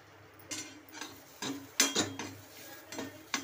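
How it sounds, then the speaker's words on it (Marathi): Peanuts and grated or chopped coconut roasting in a pan, stirred with a utensil that gives several sharp, irregular scrapes and clinks against the metal over a quiet background. "त्याच्यासोबत थोडे वेळ भाजून घेऊया।"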